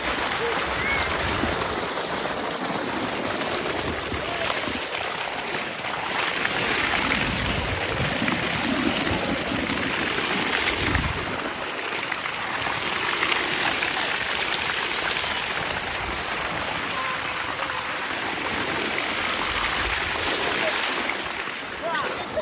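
Water rushing in a village stream that runs toward the fields on a hot summer day, a continuous broad splashing roar up close, with bathers moving in the water.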